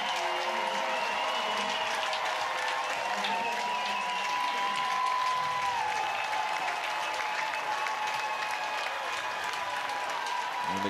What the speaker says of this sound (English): And the crowd at Jane Sanders Stadium on its feet.